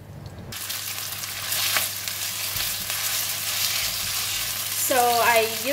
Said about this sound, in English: So I use the same oil and put in the ginger and the beef and continue to stir fry